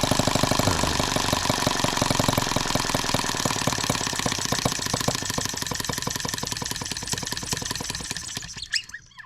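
A Microcosm H76 model engine on its first start, running loud and close with a fast, rough, knocking beat that holds steady for several seconds before cutting off abruptly near the end.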